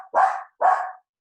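Two sharp dog barks in quick succession, close and loud, with a short silent gap between them and nothing else around.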